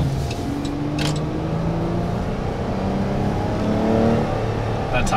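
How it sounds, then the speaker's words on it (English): A 2019 Dodge Grand Caravan SXT at full throttle from inside, its engine note climbing steadily as it accelerates, a loud continuous drone over road noise. "I kind of laid on the throttle a little bit too late"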